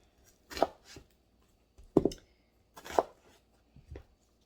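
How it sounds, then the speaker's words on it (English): A kitchen knife chops through an onion on a cutting board, four separate solid thuds spaced about a second apart, close and distinct with quiet pauses between. "we're going to get started chopping an onion"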